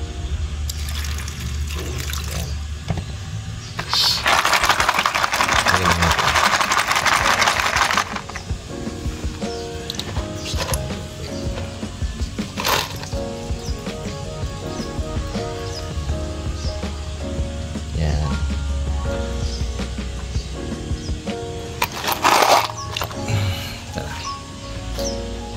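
Water runs steadily from a tap while rust-treated car parts such as screws are rinsed, a continuous splashing flow with a louder rushing burst early on and occasional clanks.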